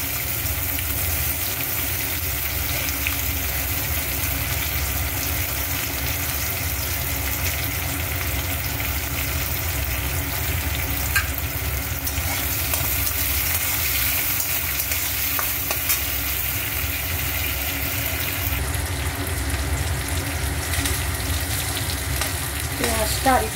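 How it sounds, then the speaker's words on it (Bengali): Chopped onions frying in hot oil with panch phoron, a steady, loud, dense sizzle and crackle that runs unbroken throughout, close up, with no talking. "একটু পাঁচফোড়ন দিয়ে আমি এর মধ্যে একটু পেঁয়াজগুলো কেটে রেখেছিলাম, ওগুলো একটু ভেজে নেব।"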